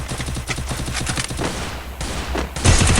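Rapid bursts of UMP submachine gun fire in the Free Fire battle game, dense repeated shots in quick rhythm with short pauses, loud and close, ending in a heavier burst.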